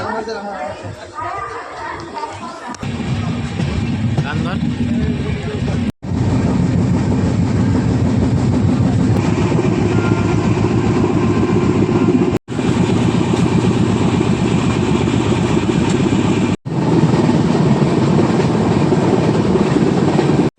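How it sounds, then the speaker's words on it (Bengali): Inside a moving long-distance passenger train bound for Puri, a loud continuous rumble with rhythmic wheel clatter fills the carriage, broken by short gaps, while someone talks over it at the start. "ট্রেন দিয়েছে ছেড়ে, এবার দেখো ট্রেনের ভিতরটা"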